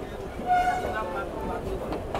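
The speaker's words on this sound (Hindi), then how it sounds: "फाइनली अराइवल हो रहा है अपना मालदा टाउन रेलवे स्टेशन में" A train rolls into Malda Town railway station, a steady rumbling hum with faint tonal whine and clatter, continuous and moderately loud throughout.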